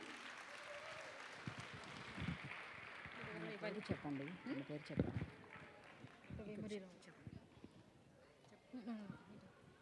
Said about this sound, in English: Please give a big round of applause for Shreya Tamatam.